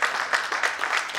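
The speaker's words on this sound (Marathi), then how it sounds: "सगळ्या शिक्षकांसाठी जरा जोरदार टाळ्या" Applause for the teachers at the Balak Vihar school reunion, a brief burst of dense clapping from a crowd of hands, steady and fairly loud throughout.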